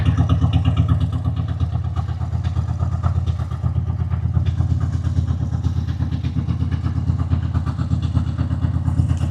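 Harley-Davidson Sportster motorcycle engine running close by, a loud, steady low rumbling idle with an even throbbing pulse and mechanical clatter throughout, no talking.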